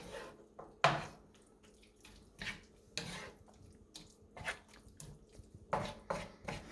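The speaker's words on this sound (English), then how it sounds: "Continuing to add the pasta water" Pasta water poured into a spicy pumpkin pork noodle sauce, with irregular splashes, drips and clinks of a utensil against the pan, fairly faint and close.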